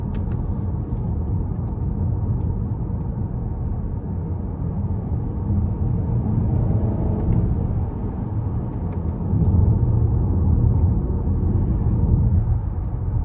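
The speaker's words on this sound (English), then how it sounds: "I'm gonna test out the paddle shifters." A 2021 Buick Envision Preferred with a 2.0 turbo four-cylinder, driven using its paddle shifters: a muffled cabin engine rumble that swells slightly later on, heard alone without talk.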